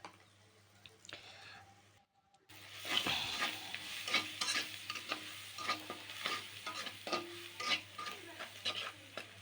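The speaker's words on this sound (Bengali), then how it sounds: "আবারও সুন্দর করে ভেজে নেব" Ground chili and coriander powders fry with onions in a pan. After a brief silence, a close, steady sizzle is broken by repeated scraping stirs of a spatula.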